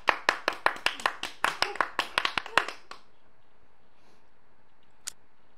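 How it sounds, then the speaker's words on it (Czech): A small group claps for a guild leader in a Shakes and Fidget mobile game ranking, with a short burst of about fifteen quick, sharp claps that stops abruptly, then near silence with a single faint tap. "Prosím o největší potlesk."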